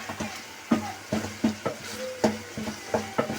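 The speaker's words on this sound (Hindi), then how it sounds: "हमारा तकरीबन रेडी है कीमा। बस मैं तेज़ आंच पे इसको थोड़ा सा भून लेती हूँ।" Keema (minced meat) being fried and stirred in a pan on high heat: a soft background sizzle broken by a regular series of sharp spoon scrapes and taps against the pan, fairly close.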